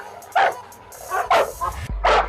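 Several dogs bark and yip in loud, sharp bursts at a visiting dog, with short gaps between volleys and a whimpering note, heard close by.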